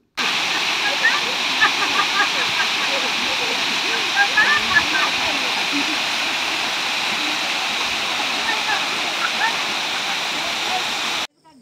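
Longding waterfall in Arunachal Pradesh, a loud, constant roar of rushing water heard up close, with faint splashing texture and no break throughout.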